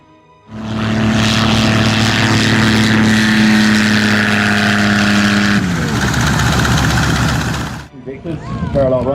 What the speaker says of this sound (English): Lovely touchdown there by our local pilot in the Yak 3.